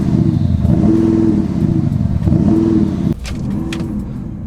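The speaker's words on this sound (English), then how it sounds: "Let's give it a rev and show you what it sounds like with a few revs." Audi SQ7 V8 diesel engine revving in repeated loud, close bursts, climbing and easing back twice before a final sharper blip and a steadier rumble.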